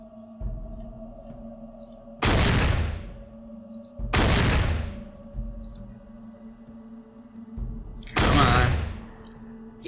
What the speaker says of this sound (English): Stop shooting Tycho!